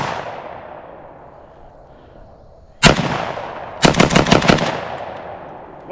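An AK-74 pattern Romanian SAR2 rifle fires outdoors, first a single loud shot and then a rapid burst of about six or seven cracks, each trailing a long echoing decay.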